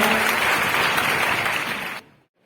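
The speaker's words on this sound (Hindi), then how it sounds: "तालियां" Crowd applause at a public event in Moradabad rings loud and steady for two seconds, then cuts off abruptly into silence.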